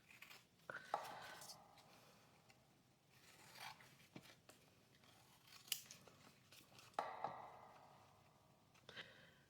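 Scissors cut out a paper tag in a quiet room, with scattered crisp snips and soft paper rustles spread over several seconds, close and faint.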